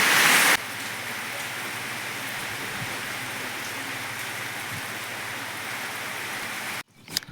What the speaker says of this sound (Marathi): पाऊस तर आता जास्त वाढला बरं का आवाज येत असेल फोनमध्ये